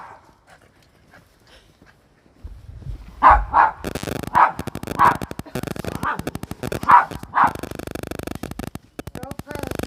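A dog barking outdoors in snow, a run of sharp, loud barks in quick bursts after a quiet start, close to the listener and mostly alone.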